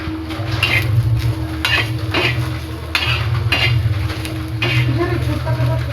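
Gravy for rashi patodi sautéed in a pan, repeated rhythmic scraping and clanking of a spoon against the pan over a low sizzle, close and fairly loud.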